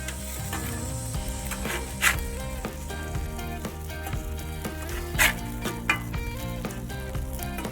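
Burger patties sear on a smoker's hot surface after being flipped, a steady close sizzle with occasional sharp scrapes and pops of a spatula, and no talking.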